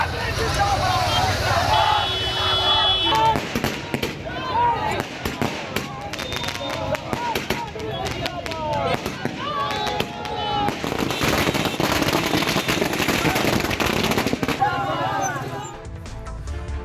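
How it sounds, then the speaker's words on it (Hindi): Fireworks and firecrackers burst repeatedly in a street celebration in Bihar, a dense, continuous crackle of sharp pops over traffic noise and crowd babble, with voices talking throughout. "बिहार में आतिशबाजी हो रही है और बीजेपी के सीएम को लेकर जश्न मनाया जा रहा है"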